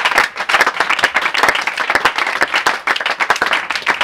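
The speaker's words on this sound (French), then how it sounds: "On acclame le Seigneur Jésus" A church congregation claps loudly together in a dense, continuous round of applause that fills the room for several seconds.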